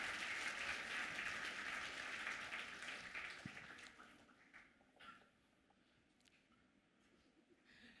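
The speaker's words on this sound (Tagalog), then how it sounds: "Isa pang malakas na palakpak nga po uli." A church congregation applauds loudly, a dense burst of clapping that tapers off over several seconds into scattered claps and quiet room noise.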